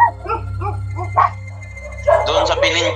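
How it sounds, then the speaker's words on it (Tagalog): Several dogs bark outdoors on a street near an apartel, with a few short yips and barks followed by a louder burst, mixed with nearby talking. "May mga aso eh."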